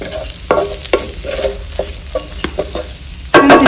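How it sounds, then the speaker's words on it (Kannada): Ridge gourd gojju stirred with salt in a pan, a series of close, loud spatula scrapes and clacks over a low simmering sizzle, ending in a sudden burst of louder hiss. "ಲಾಸ್ಟಲ್ಲಿ ಉಪ್ಪು ಸೇರಿಸಿ ಇದನ್ನು ಮಿಕ್ಸ್ ಮಾಡಿಕೊಂಡು ಇಳಿಸ್ಕೊಳ್ಳೋಣ"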